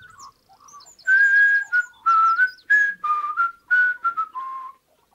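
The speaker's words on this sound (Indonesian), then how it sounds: "Don sedang bekerja di kebun sambil bersiul" A man whistles a lively tune while working in a garden, a clear close melody of sustained and short notes in uneven phrases, with no other sound behind it.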